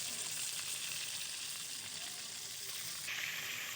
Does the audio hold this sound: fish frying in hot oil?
yes